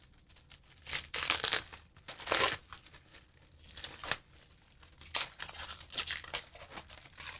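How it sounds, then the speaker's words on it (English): Paper wrapping torn off a championship belt in several crinkly, ripping bursts, close and fairly loud, with short pauses between pulls. "See, I need this paper off."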